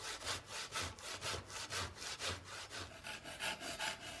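A Japanese ryoba double-edged saw cuts through wood in a steady series of about ten close, rhythmic back-and-forth strokes, each a rasping push and pull, with no other sound.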